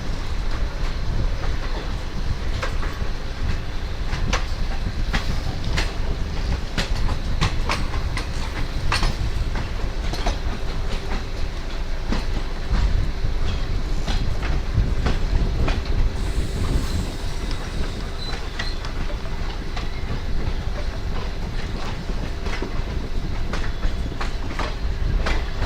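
The Bhagat Ki Kothi Dadar Express rolls past a station platform with a continuous heavy rumble and a steady clickety-clack of wheels over rail joints. Occasional squeals and clanks sound throughout, with no voices.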